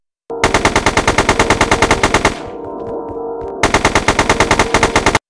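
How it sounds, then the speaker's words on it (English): Rapid automatic gunfire bursts in the Elmo Gets Drafted video game, loud and rhythmic, breaking off for a moment of clattering echoes before another sustained burst. "He was shooting into the wall!"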